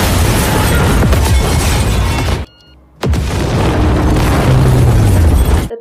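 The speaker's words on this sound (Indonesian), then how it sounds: "Lisa memijit bom waktu yang telah ia simpan berharap dirinya akan ikut" A time bomb detonates in a film scene with a loud, sustained roaring blast, a brief near-silent gap, then a second long rumbling explosion that fills the clip, close and overwhelming with no voices.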